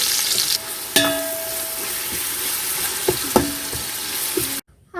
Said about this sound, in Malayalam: ഇതൊന്ന് വറുത്തെടുക്കാം.